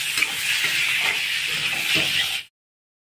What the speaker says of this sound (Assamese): মাংসখিনি দি দিলোঁ বঢ়িয়াকৈ। এতিয়া অলপ ভাজিব লাগিব